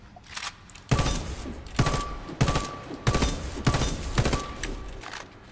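HCAR automatic rifle fired in the shooter game Warface, with short bursts of rapid gunshots, about six sharp volleys separated by brief pauses, loud and close.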